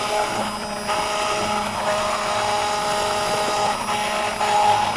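A blender purees tomato bisque soup with a continuous, loud, high-pitched whir that shifts slightly in pitch and intensity throughout, heard close and alone without speech.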